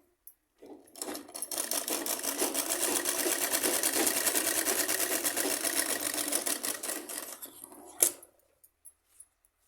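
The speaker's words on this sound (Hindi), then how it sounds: "इसको इसी तरह से सिल देंगे" A sewing machine stitches a salwar seam in a steady, fast whirring run of several seconds, close and clear, stopping with a clack and brief handling noises.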